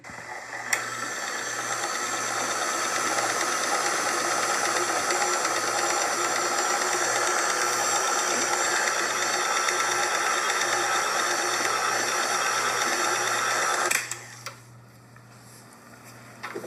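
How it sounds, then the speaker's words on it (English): An electric mixer whirs steadily on low speed through a dense lemon saucing cake batter, a continuous mechanical hum with a faint ticking rhythm that cuts off near the end. "So this part I mix on low speed."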